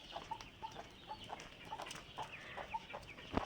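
A brooding hen clucks softly in a series of short, evenly spaced notes, faint against a noisy farmyard background, with no talking.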